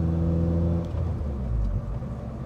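A supercharged Honda Civic Si with a Skunk2 Alpha header and Invidia exhaust cruises at around 40 mph, its engine giving a low, steady hum and drone from inside the cabin with no talk.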